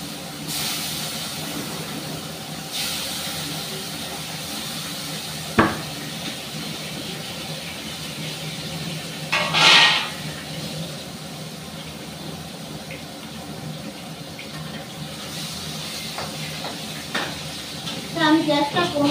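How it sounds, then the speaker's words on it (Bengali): Four pieces of katla fish rubbed with salt and turmeric frying in hot oil, a steady hiss and sizzle throughout, with a few sharper spatters and pops rising over the continuous crackle. "এবার মাছটা ভাজবো।"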